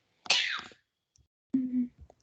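A single sharp sneeze bursts out close by, followed a moment later by a short spoken exchange.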